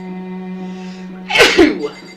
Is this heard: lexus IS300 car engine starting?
no